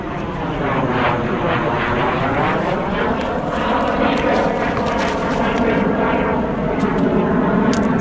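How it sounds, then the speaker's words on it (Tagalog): Jet fighters pass over a riverside in Taiwan, a loud sustained engine roar whose pitch slowly bends as the aircraft moves overhead, steady throughout the stretch. "Nakadaan po kami ng mga jet fighter."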